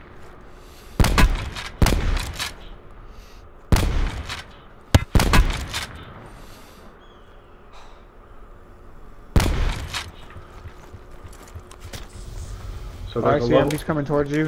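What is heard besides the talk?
gunfire in a video game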